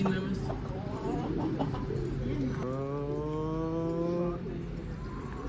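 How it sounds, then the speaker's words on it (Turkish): A pigeon on a rooftop coos in low, drawn-out calls, with a longer cooing phrase near the middle, while people talk nearby over outdoor background noise. "Çatıda kuş var"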